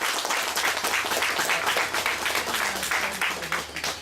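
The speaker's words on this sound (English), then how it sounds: "Give yourself a strong round of applause. Come on, clap it up." Audience clapping on cue, a dense burst of applause with some rhythmic clapping mixed in, with faint voices and a low tonal hum underneath.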